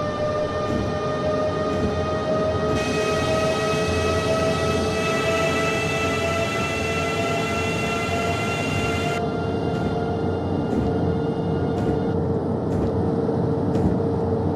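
A DB BR152 electric locomotive on the Munich–Rosenheim line in Train Simulator 2019 gives a steady, loud tonal whine and rumble, with a brighter high layer joining midway and dropping out later.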